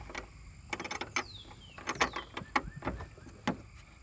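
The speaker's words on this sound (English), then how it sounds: "I'm going to use the wrench for the 3rd." Wrench ratcheting and clanking metal hardware loose while removing a coilover, a run of short irregular clicks and knocks with a couple of scraping slides, close by, with no talk.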